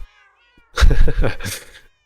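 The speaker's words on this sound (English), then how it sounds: "There is too much meowing." A loud, drawn-out cat meow rises and falls close up, preceded by faint tonal game music, in the modded Minecraft pack GregTech: New Horizons.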